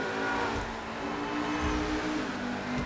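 Car engine droning inside a tunnel in GTA V, a fairly quiet, steady mid-low rumble with a reverberant wash and slight swells as it runs on, no voices over it.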